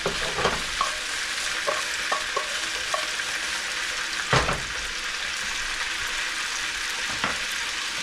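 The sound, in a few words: hotdogs frying in a pan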